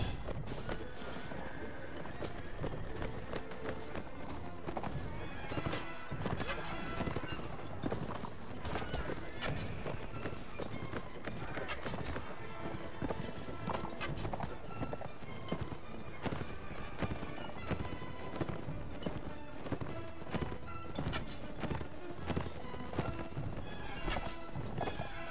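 Horses galloping in the Mount & Blade: Warband video game, dense rapid hoofbeats pounding continuously and loudly for the whole stretch, with occasional neighs mixed into busy battle noise.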